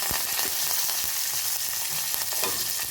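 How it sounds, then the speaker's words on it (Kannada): Mustard and cumin seeds fry in hot oil, producing a steady close sizzle with scattered crackles and pops throughout, no voices present. "ಎಣ್ಣೆ ಕಾದ ಮೇಲೆ ಅರ್ಧ ಚಮಚದಷ್ಟು ಸಾಸಿವೆ 1 ಚಮಚದಷ್ಟು ಜೀರಿಗೆ"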